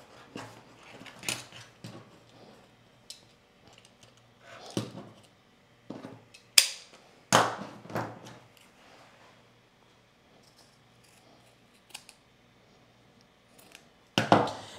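Scissors trim the seam allowance of a sewn dress collar band in a series of separate, close snips and crisp cuts with quiet pauses between them, no voices.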